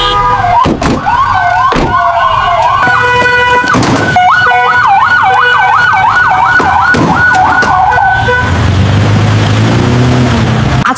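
An ambulance siren wails loud and near, its tone sweeping up and down in a fast, repeating warble, with a few sharp knocks before the siren fades into rumbling traffic at the end.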